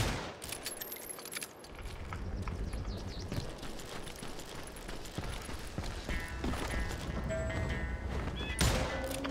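A horse gallops in the Western video game Call of Juarez Gunslinger, its hoofbeats running steadily through a dense mix of game noise, jingling and bursts that may be gunfire.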